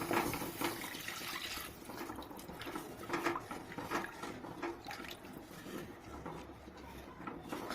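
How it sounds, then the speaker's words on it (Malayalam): Water is poured from a glass into a simmering Kerala pearl spot (karimeen) fish curry, a faint, continuous splashing and trickling that runs quietly throughout. "ഒരു ഗ്ലാസ് വെള്ളം കൂടെ ഒഴിക്കുക."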